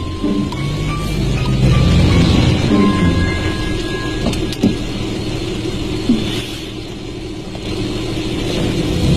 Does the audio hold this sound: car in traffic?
yes